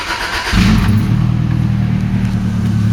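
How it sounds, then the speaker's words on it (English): A 1998 Subaru engine running with no exhaust starts up half a second in, then settles into a loud, steady, raspy idle rumble close by. "Start the Subaru up. This is how it sounds with no exhaust."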